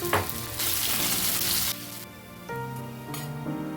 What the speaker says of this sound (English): frying it to 1 to 2 minutes, adding the diced potatoes into the kadhai